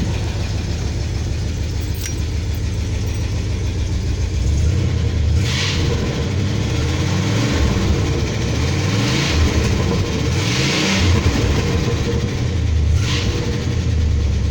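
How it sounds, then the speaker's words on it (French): A 1973 Cadillac Sedan DeVille with a 7.7-litre V8 idles with a deep rumble, then gets several short throttle blips that rise and fall, loud and close. "pour finir un petit rugissement moteur avant de couper."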